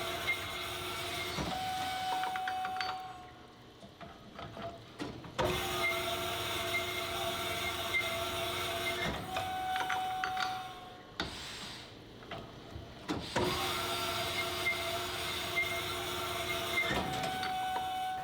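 Mercury 255 flathead V8 connecting rod bores being honed with a honing stone: a steady mechanical whir-and-scrape that runs in long stretches, stopping briefly between passes, with no talk.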